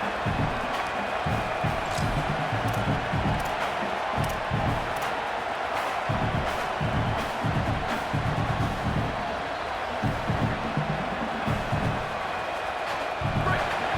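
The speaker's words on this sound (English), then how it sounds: "This crowd bringing the energy and noise early." Stadium crowd at a college football game between Georgia Tech and Virginia Tech in a video game; a constant loud roar with cheering swells, under a commentator's voice.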